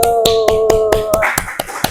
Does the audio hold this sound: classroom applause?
yes